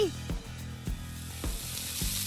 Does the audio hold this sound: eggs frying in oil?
yes